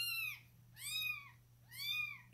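A newborn Maine Coon kitten meows three times in even succession, each call a clear, rising then falling cry, close and fairly quiet, separated by short pauses.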